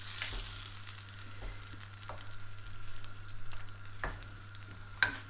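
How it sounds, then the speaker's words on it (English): Stir-fry pie filling sizzles in a pan while being stirred, a low steady fry under intermittent utensil scrapes and knocks, close and fairly quiet. "Going to give it a stir."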